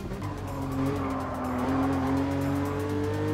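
A car slides sideways in Gran Turismo 7, its tires squealing in a long, sustained wail that bends upward in pitch over a steady engine drone.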